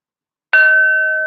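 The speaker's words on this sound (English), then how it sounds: "So I'm going to begin with the bell, which I always do." A single bell struck to open a tarot reading, a sharp clang settling into a steady, clear ringing tone that sustains with little decay.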